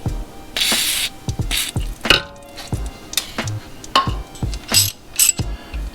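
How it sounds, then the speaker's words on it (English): Short hissing bursts of WD-40 sprayed onto a BMW suspension part during a spring swap, several quick sprays mixed with metallic clinks and handling noises, close up. "Shoot this with the WD-40."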